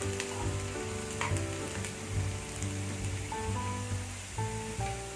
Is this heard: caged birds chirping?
no